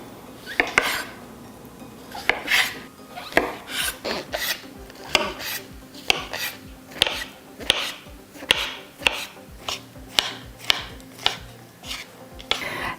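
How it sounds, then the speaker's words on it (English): Knife finely dicing button mushrooms on a cutting board, a steady series of sharp, close chopping taps at an even rhythm with no talk. "you want to finely dice the mushrooms into small pieces first."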